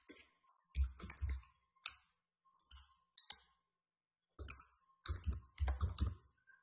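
Keys clatter on a computer keyboard while a network server node is renamed in lab software, in short, quiet bursts of close clicks separated by brief pauses.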